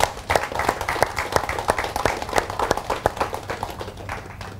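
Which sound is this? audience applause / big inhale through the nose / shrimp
audience applause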